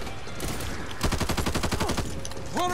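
Rapid automatic assault rifle fire from a zombie shooter game, Back 4 Blood: a tight, loud burst of evenly spaced shots lasting about a second, with game effects and ambience before and after.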